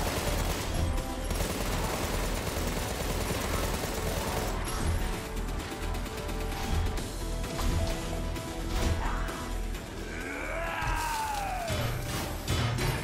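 Dense, continuous rapid gunfire and crashing impacts in the video game Contra: Rogue Corps, with a swooping effect near the end.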